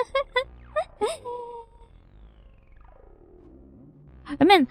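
Synthetic high-tech sound effect from the video game Hellnight, with sweeping and warbling electronic tones, chirps and squeals that rise and fall like a dial-up modem connecting, ending in a louder burst of bright tones.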